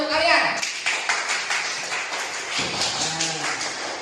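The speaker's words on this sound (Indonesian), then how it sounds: "tepuk tangan untuk kalian" A class of students claps together in a classroom, a brief burst of dense hand claps that rises after a teacher's voice and continues under further speech.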